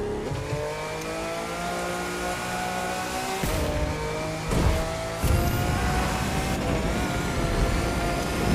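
A Lamborghini Reventon in The Crew 2 video game drifts through a corner: a loud, close engine revving with shifting pitch, gear changes and tire squeal over rising roar.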